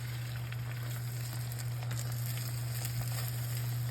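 Eggs sizzle quietly in a pan while being pushed and stirred, a faint, steady frying hiss over a constant low electrical hum.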